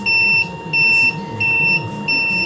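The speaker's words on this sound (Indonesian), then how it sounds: "tanda baterai lemah itu berbunyi meskipun dicas sudah hijau" A battery-powered sprayer's low-battery alarm sounds four loud, even, high-pitched beeps in a steady on-off pattern, with a faint hum underneath.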